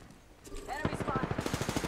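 Rapid automatic gunfire from the video game Apex Legends rattles in an even burst of evenly spaced shots, mid-distance and moderately loud, following some brief in-game sounds.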